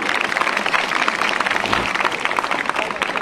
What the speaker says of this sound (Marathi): आपण टाळ्या वाजवा ना तुम्ही.